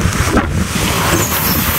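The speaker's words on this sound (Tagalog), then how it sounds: "sobrang lakas ng hangin" Strong wind at sea near mangroves, a steady loud broadband roar buffeting the microphone throughout, with no voices.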